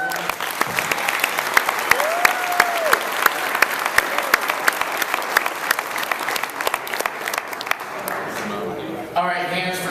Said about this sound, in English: just a quick round of applause and thanks to Hyatt for everything they've done